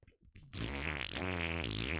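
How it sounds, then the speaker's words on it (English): A long, loud buzzing fart noise plays during a Minecraft SevTech Ages game stream, a steady tonal raspy blurt lasting over a second after a brief quieter sound. "because of fart noise."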